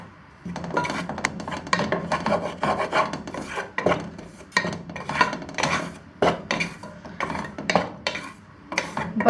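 Gram flour slowly frying in a pan on low heat for ghee Mysore pak, with constant rasping, scraping strokes of a spatula against the pan in an uneven rhythm, close and fairly loud, no voices.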